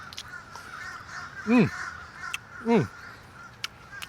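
Crows cawing in Hawaii, two loud, harsh caws about a second apart close by, over a low steady outdoor background with a brief murmur from a person.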